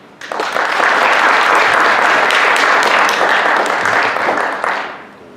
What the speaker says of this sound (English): Nice round of applause for John Bozeman